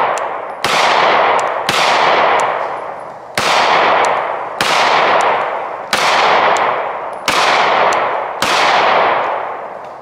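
A Canik MC9 pistol fires 147 grain rounds in a steady string of about eight loud, sharp shots spaced roughly a second apart, each with a ringing decay outdoors and no talking.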